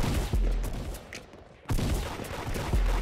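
Gunfire in the Roblox game Da Hood, a few loud bursts of rapid shots with brief gaps between them, close and dominant.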